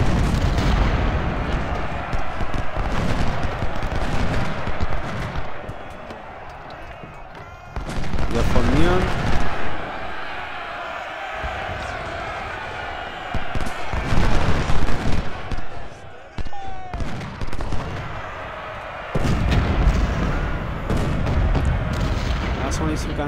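Cannon artillery fire in the video game Ultimate General: Civil War, Union side at the Kettle Run battle: several heavy booming volleys in bursts over a rumbling battle bed, with someone talking in between.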